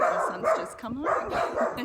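A pet dog barks and yips a few times close by at home, its sharp calls mixed with a person talking over it.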